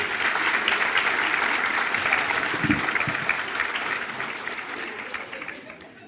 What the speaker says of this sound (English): Round of applause for being here this early.